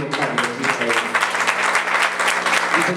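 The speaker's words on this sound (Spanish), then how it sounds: "Fuertes los aplausos al niño Carlos Israel" Guests at a wedding in Cantel, Guatemala, break into warm, continuous applause for a young boy, with the dense clapping staying close and even for the whole stretch.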